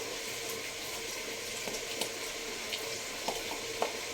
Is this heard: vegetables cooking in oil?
yes